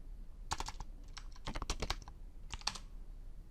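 Several quick bursts of keystrokes on a computer keyboard as a new folder name is typed, close and fairly quiet, with short pauses between the runs of clicks.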